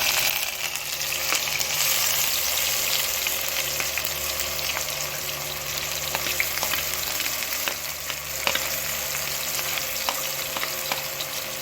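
Onions frying in hot ghee in a pan: a dense, steady sizzle that stays loud and close throughout, with faint clinks of utensils mixed in and no talking.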